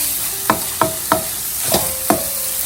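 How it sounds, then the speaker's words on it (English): Sausage frying in a pan while a spatula presses and breaks it apart, five distinct scraping strokes at a steady rhythm over a continuous sizzle, no voices. "I'm just using the spatula right here to press it down a little bit. At the same time, it helped me break down the sausage"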